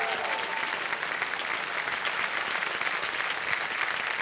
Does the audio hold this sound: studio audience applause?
yes